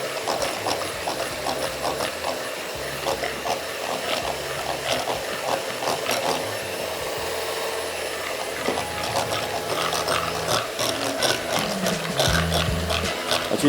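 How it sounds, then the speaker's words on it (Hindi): Egg yolks are beaten into a mixture for a lemon Swiss roll, likely with an electric mixer, which gives a quiet, steady mechanical whir with rhythmic rattling throughout and no speech. "एक अंडे की जर्दी आई और फेंटते चले गए।"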